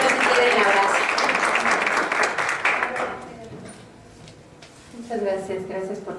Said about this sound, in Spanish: Más bien aplausos